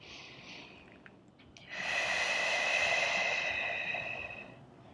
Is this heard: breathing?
yes